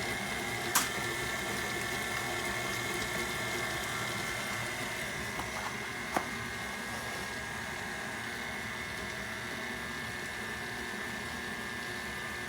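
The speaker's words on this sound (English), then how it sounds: "we'll turn the mixer back on" An electric mixer beats cake batter with freshly cracked eggs, giving a faint, steady motor whir that holds evenly throughout, broken by a couple of light clicks.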